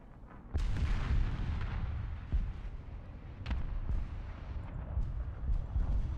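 A tank cannon in War Thunder fires an armor-piercing round with a heavy booming blast, followed by rumbling engine and battlefield noise and a few fainter distant thuds, all without speech.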